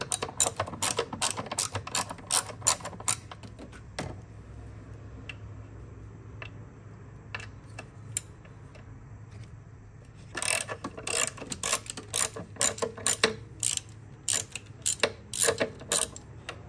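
A ratchet clicks rapidly and loudly, close by, loosening valve cover bolts on a BMW 323i E90, in bursts of fast ticking separated by a quieter pause.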